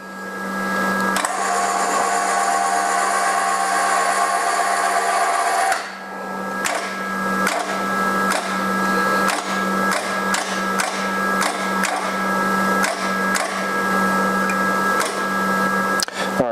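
A spring testing machine runs its ram up one inch to compress a spring, giving a steady mechanical motor whine with a constant low hum and repeated clicking ticks throughout, its tone shifting partway through.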